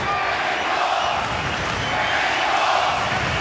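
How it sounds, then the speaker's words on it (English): A large arena crowd roars steadily at a boxing match, a dense, continuous wash of cheering and shouting with no pauses. "Crowd is really into it here in the arena."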